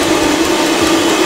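An electric hand mixer whips egg whites for pancake batter into a foam, a steady loud motor whine with a constant pitch that runs unbroken through the whole stretch.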